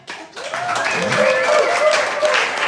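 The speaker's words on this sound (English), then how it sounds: "they're only going to come up if you guys give them a big round of applause" A comedy show crowd claps for performers returning to the stage, a broad wash of applause that swells after a quiet start and holds steady, with a voice talking over it.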